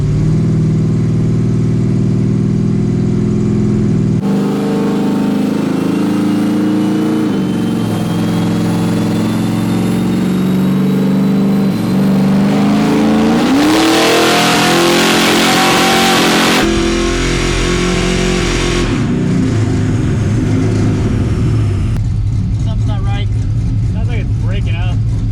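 Chevrolet C10 Squarebody engine on a dyno during tuning, running loud and continuous as it revs up through a sweep, climbs to a peak, drops back and settles, with talk over part of it.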